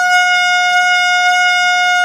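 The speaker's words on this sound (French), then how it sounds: "je vais finir par m'habituer à ce klaxon" A video game horn blares as one loud, steady, buzzy tone with no break, heard alone.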